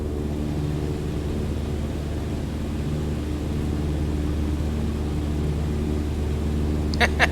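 Steady propeller-engine drone of a light aircraft held at 2,300 RPM cruise power in a flight simulator game, a continuous even hum throughout with a couple of brief clicks near the end.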